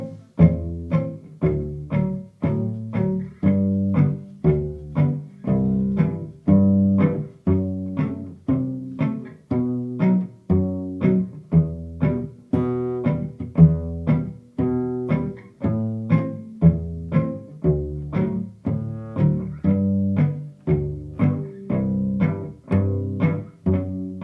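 Cello playing a walking bass line over the chord changes in a root-fifth pattern, with steady plucked notes on every beat, close and clear, continuing alone without any voices.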